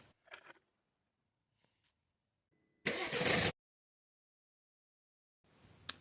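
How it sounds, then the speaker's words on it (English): A car engine cranks on its starter motor during a starter test, giving one loud, dense burst of about half a second. A quieter burst follows near the end, with faint clicks and silence before it. "we're going to crank the engine, turn the starter motor over"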